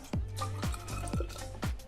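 A little water splashes into an empty glass passata jar, heard as a few quick, close, separate drips and plops, fairly soft and with no voices.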